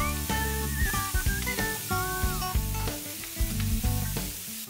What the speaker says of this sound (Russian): Жарим так еще минуту, регулярно помешивая.